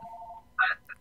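Telephone ringing with an incoming call, a short bright electronic ring burst followed by a brief second chirp over a faint steady tone.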